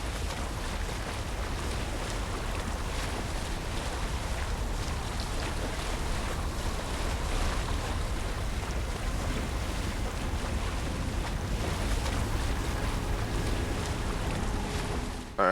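Boat crossing the River Styx in the underworld of Assassin's Creed Odyssey, with steady wash of water and rushing wind noise filling the scene continuously, loud and close, no talking.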